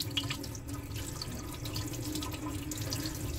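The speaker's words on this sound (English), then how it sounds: "Turn the water on low. These sinks tend to go on too high. Try to rinse out what you can with the water." Tap water runs into a sink while a paint tray is rinsed, a steady, close splashing flow with faint trickles and drips throughout.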